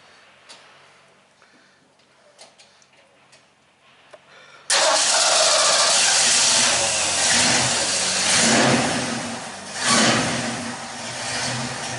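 Faint clicks and ticking give way to a 1969 Ford Mustang V8 with dual exhaust firing up loudly, then a deep rumbling idle with a couple of revs, close by.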